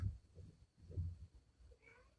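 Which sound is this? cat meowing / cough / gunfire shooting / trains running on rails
cat meowing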